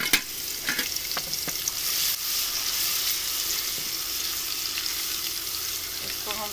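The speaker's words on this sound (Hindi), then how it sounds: "इसको हम थोड़ी देर के लिए फ्राई करते हैं" Steady hiss and crackle of garlic paste frying in hot oil, with occasional scraping stirs and a few sharp pops, close up.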